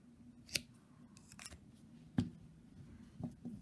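Scissors snipping crochet yarn after fastening off, a few sharp close cuts spaced apart at a quiet level, with no talking.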